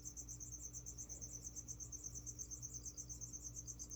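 An indoor cricket chirps steadily and loudly at close range, a rapid pulsing trill that runs unbroken throughout over a low background hum.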